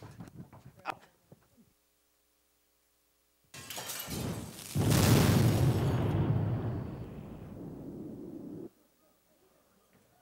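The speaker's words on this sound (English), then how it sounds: "I literally cannot even with all these explosions anymore" After near silence, a loud crash and explosive boom erupts, followed by crumbling, rumbling debris that fades out over several seconds.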